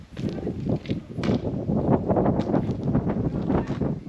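Steady gusty wind buffeting the microphone outdoors on a fishing outing, a continuous broadband rush with faint rustling and thumps throughout.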